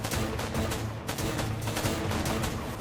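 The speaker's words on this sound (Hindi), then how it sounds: "चारों ओर से गोलियां चलने लगी" Gunfire in a Kargil war documentary, soldiers ambushed near a mountain post, with dense overlapping bursts and cracks in a continuous loud barrage that never lets up.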